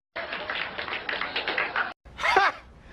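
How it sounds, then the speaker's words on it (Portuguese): Brief burst of applause from a small group, dense close clapping lasting under two seconds, followed by a chuckle and a voice. "Palmas."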